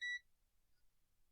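A continuity tester gives one short, sharp electronic beep as its probes touch grounded pins inside an old Linksys router, then near silence follows.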